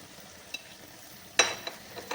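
Mashed homemade chhana being stirred into a frying potato mixture for a Thakurbari-style small-potato dish, with a low steady sizzle and a few short scraping stir strokes, close and fairly quiet.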